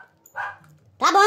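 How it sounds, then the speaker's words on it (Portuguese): Dogs barking and yipping indoors at close range, two short sharp bursts separated by a brief pause, loud and clear with no talk between them. "meus cachorros ficam loucos"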